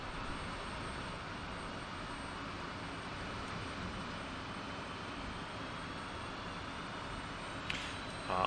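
Steady low drone of an F-16 jet engine inside a flight simulator game, constant and fairly faint throughout, with no speech over it and a brief click near the end.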